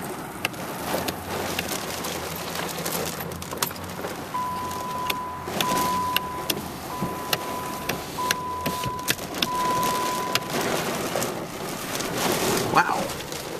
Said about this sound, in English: and it's starting to rain now.